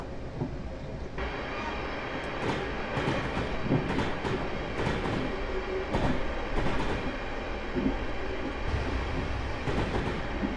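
Class 444 electric multiple unit running on the Portsmouth Direct Line in Train Simulator 2015, a steady rolling rumble with rhythmic wheel clicks over rail joints, close and continuous throughout with no talking.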